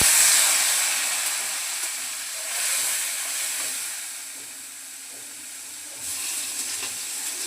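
Splash of water poured into a hot pan of cumin and turmeric powder, giving a steady bright hiss and sizzle that swells briefly near the start and again toward the end.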